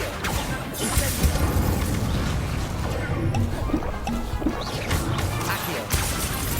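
An Incendio fire spell cast in the video game Hogwarts Legacy, amid combat: loud crashing, whooshing bursts and impacts pile into a dense, continuous roar with a sharp hit near the end.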